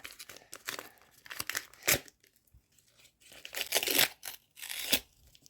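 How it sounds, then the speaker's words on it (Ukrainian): Close crinkling and tearing of a thin, unperforated paper packet being torn open in several quick bursts with short pauses between them. "Я просто порвала пакетик"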